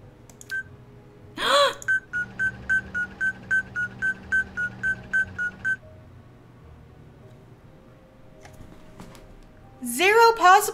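Phone keypad in a Nancy Drew video game dials a run of about a dozen short, evenly spaced tone beeps, with voice sounds before and after.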